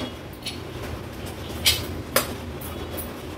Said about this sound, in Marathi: कुकर उघडून बघूया।